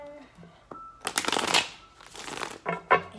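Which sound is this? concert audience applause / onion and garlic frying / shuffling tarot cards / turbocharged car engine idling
shuffling tarot cards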